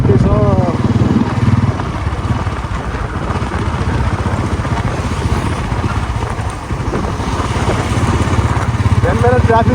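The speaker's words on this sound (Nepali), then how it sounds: "बिहान बिहान बाइक चलाउनुको मजै छुट्टै छ" Close, continuous engine drone of a motorcycle ridden in the early morning in Butwal, holding steady for the whole stretch while someone speaks over it.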